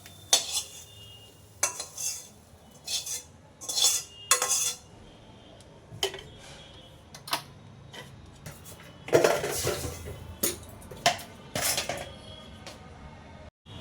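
Fried drumstick flowers being served from a pan onto a plate, heard as close, intermittent metal clinks and scrapes of a utensil against the dish, with no talking.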